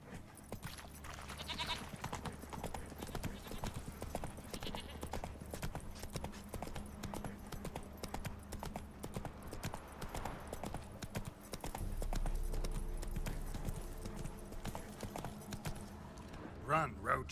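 Hoofbeats of the horse Roach galloping in The Witcher 3, a steady rapid clip-clop running throughout under game music and ambience, with a voice speaking over it.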